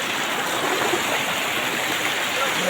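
Steady flowing water at Bileshwar Mahadev, where people bathe in the stream, a close, even rushing wash with no break.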